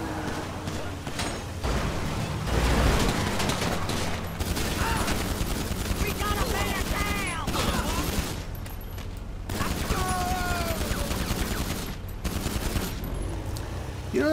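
Rapid bursts of automatic gunfire from players shooting in GTA 5 Online, a dense, continuous fusillade of loud shots lasting throughout with brief pauses, over game ambience.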